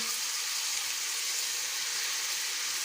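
Ginger garlic paste fries with spices in a pan, giving a soft, even, continuous sizzle throughout at moderate distance with no voices.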